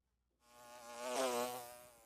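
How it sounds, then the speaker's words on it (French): A housefly buzzing close to the microphone, swelling quickly from silence into a loud, wavering drone that peaks and holds steady for about a second and a half. "Oh la mouche de fou."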